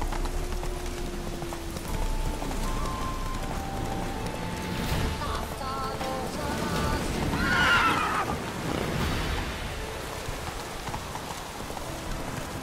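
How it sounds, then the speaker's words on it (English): In The Witcher 3 video game, a horse neighs and whinnies with hoofbeats clip-clopping over a rainy backdrop, the neigh peaking loudly midway before fading, with a voice briefly heard. "Slower. Run, Roach."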